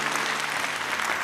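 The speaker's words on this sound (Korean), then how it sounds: "여러분 이렇게 박수 치셨는데" A church audience at a festival event claps steadily in a brief, dense burst of applause with no voices heard.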